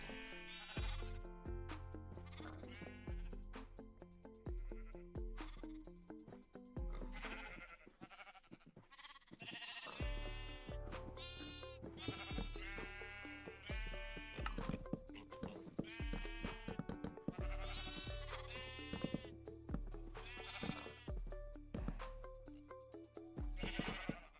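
Repeated sheep bleats in Minecraft, a series of loud wavering calls coming in clusters over a steady game background with music-like tones, no talking.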